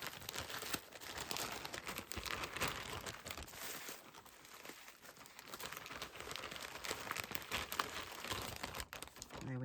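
Close, continuous crinkling of a bag while a breakable item is packed for shipping, with crackly rustles rising and falling throughout and faint handling noises, no clear speech.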